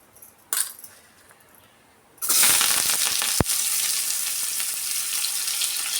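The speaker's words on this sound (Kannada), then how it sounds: "ಈಗ ನೋಡಿ ಈರುಳ್ಳಿ ಮತ್ತು ಕರಿಬೇವಿನ ಸೊಪ್ಪು ಸೇರಿಸ್ಕೊಳ್ಳೋಣ." Onion and curry leaves hit hot oil in a pan for a vegetable sambar, bursting into a loud, steady sizzle after a quiet start and a brief clatter, then frying continuously up close.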